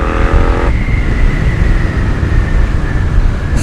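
An Interceptor 650 motorcycle fitted with a Red Rooster Stellar exhaust runs with a steady, smooth engine drone. A brief higher tone sounds at the start before the engine settles into a continuous hum.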